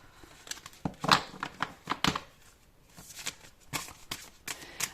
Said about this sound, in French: En même temps que je bats les cartes